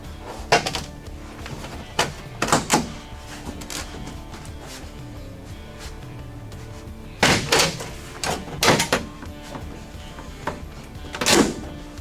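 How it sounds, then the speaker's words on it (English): Trim on an old 1964 Ford Falcon is worked loose in cold weather, giving repeated sharp cracks, thumps and snaps in uneven bursts, close and loud, with no talking. "the door panel cracked because it's cold out"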